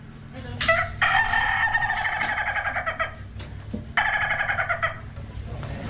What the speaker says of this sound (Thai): มีไก่หัวเราะนะครับ ที่เสียงขันของไก่เนี่ยเหมือนกับเสียงหัวเราะของคน